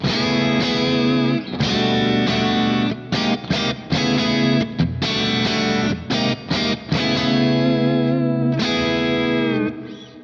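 James Tyler Dann Huff black Classic electric guitar with pickups switched to parallel, strummed hard in loud, distorted chords with chorus and effects, ringing sustained between sharp rhythmic stops, close and alone.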